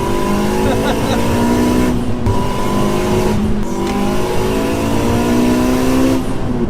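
A 500bhp turbocharged Honda Civic Type R on a test drive, engine loudly revving and pulling through gears with rising harmonic tones and short dips at shifts, heard close from inside the cabin.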